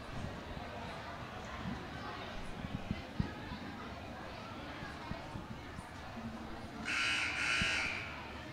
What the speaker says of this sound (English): The buzzer sounds, signaling the teams to come back out onto the court to start the fourth quarter.